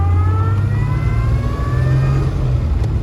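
A 1934 Bentley 3.5L Sport Saloon engine revs under load, a loud, close, deep mechanical drone with rising tones as it pulls, steady over a few seconds.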